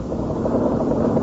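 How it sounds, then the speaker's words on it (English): A car engine with knock runs at steady load in a 1959 radio gasoline advertisement, a loud, dense rumbling drone with rough, rattling texture throughout, heard alone in a lo-fi broadcast recording. "Here's engine knock."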